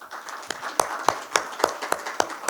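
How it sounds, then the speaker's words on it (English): Audience applause at an international conference on the Chagos Islands, heard as a few scattered, fairly close claps in a loose rhythm over a soft room hum, with no talk. "please let us give our excellencies a round of applause"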